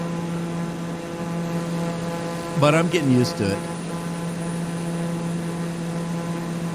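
A small plane's engine drones steadily in flight, a constant even hum with little throaty character that runs the whole time while a person speaks briefly in the middle.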